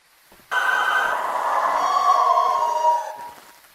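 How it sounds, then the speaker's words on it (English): A video game banshee's sustained eerie, wavering shriek, heard through a parabolic microphone, rises suddenly and holds for a few seconds before fading, with no talking. "A banshee has a custom scream on the paramic which sounds like this."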